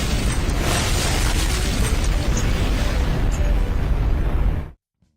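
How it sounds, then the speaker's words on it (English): A loud explosion effect that roars as a dense, sustained rumbling blast for nearly five seconds, then cuts off abruptly into silence. "Here's explosion."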